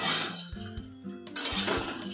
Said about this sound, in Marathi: असं मिक्स करून घ्यायचं.